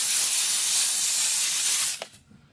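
A loud, steady hiss of a steam cleaner spraying steam onto a car interior runs for about two seconds, then cuts off abruptly into quiet.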